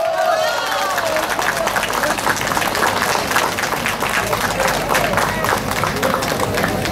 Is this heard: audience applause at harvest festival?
yes